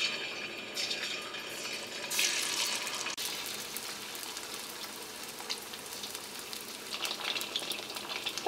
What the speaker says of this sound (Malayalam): ഇനി നമുക്ക് ചിക്കൻ വറുത്തെടുക്കാം.